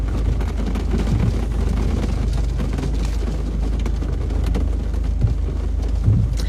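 Rain falls steadily outside a shop, a constant dense wash of noise with low rumbling underneath and a few brief louder knocks, with no voices.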